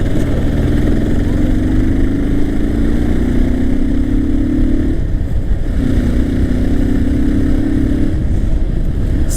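Motorcycle engine and exhaust droning steadily while riding on the road, a loud, close, continuous hum with two long rising tones in the wind-buffeted roar.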